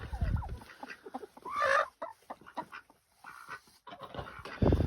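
Chickens and other newly arrived farm animals settle into a coop, with clucking fowl and a dog panting nearby in a busy, close mix of short calls and rustles.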